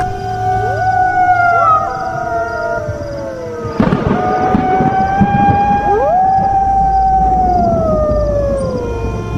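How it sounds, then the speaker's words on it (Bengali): Jackals howling at night in a story sound effect, several long rising and falling wails overlapping loudly, with a brief crackling burst partway through. "আর কানে ভেসে আসছে শিয়ালের ডাক।"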